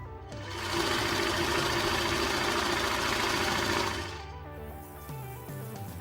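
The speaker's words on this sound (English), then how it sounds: "With the front sides together, fold the fabric in half, and I will stitch right in the center here." A sewing machine runs at speed for about three seconds, stitching down the center of folded fabric for a twist turban headband. The motor hum is close and steady, then slows and clicks to a stop.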